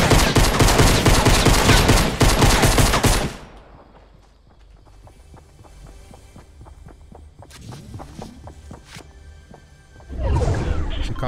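Gunfire in Fortnite Battle Royale: a loud burst of rapid shots opens the scene, followed by quieter scattered shots and footsteps, and another loud burst at the end.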